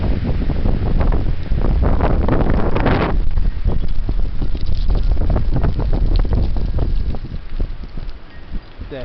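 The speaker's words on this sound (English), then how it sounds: "That wind is blowing it strong." Heavy wind blows strongly, roaring and buffeting against the microphone in steady rushing gusts with rustling underneath, easing somewhat toward the end.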